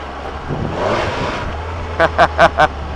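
A 2014 Triumph Explorer XC 1200 motorcycle engine swells and revs, then four quick, evenly spaced stuttering bursts cut in and out as traction control interrupts the power.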